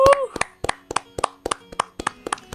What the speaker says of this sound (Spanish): Un aplauso para Moisés.